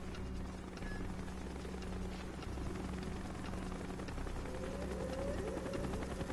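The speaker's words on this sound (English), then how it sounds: "Chopper's inbound. Now we gotta hide from the heli." A helicopter approaches in the video game Call of Duty: Black Ops, its rotor and engine a steady low drone under dense game ambience.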